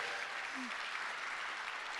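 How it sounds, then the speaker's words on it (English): Dense, even clapping from a crowd, sustained throughout at moderate volume with no break. "Let's give him a round of applause."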